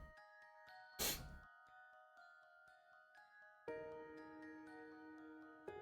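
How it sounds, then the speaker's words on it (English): A single sharp sneeze bursts out near the start, loud and close, while soft chiming, tinkling music plays on steadily underneath. "I need to sneeze again."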